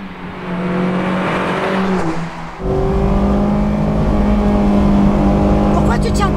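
A Honda S2000 with a Yamamoto exhaust line drones loudly and steadily from inside the cabin, easing off briefly before the revs climb again, with speech over the engine.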